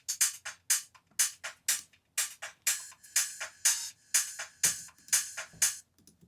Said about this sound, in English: and overall hats sounds like this